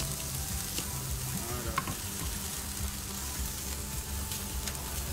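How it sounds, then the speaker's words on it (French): Burger ingredients, including juicy tomato slices and strips of onion, sizzle on a hot pan with no added fat, giving a steady, close crackling hiss throughout. "Crépitement, ça sent bon là, regardez."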